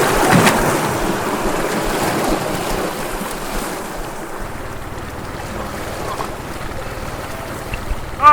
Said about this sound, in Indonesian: perahu yang kita tumpangi terbalik dihantam ombak Pantai Morela.